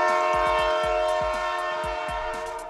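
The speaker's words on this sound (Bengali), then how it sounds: "ট্রেন তো মনে হয় চলেই আসতেছে," A train draws near, its horn sounding as a steady, loud harmonic blare over a rhythmic run of wheel clacks on the rails, all fading slightly as the clip ends with no one speaking.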